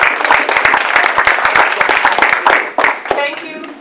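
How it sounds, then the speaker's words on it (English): A modest crowd at a city market community meeting claps for a few seconds, individual hand claps distinct and close, thinning toward the end. "So why don't we give everybody a round of applause?"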